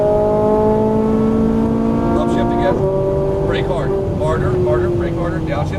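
A Ferrari 458 Italia engine at full throttle, its loud tonal wail climbing steadily before dropping on an upshift and pulling again, with a person talking over the engine near the end.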